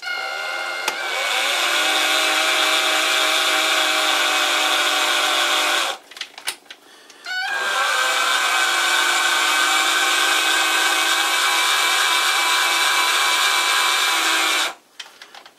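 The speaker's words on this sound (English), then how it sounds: "I'm using a cordless drill to move the compound." A cordless drill driving a metal lathe's compound slide whines steadily at high speed for several seconds, stops briefly, then runs again in a long continuous whir, close and loud.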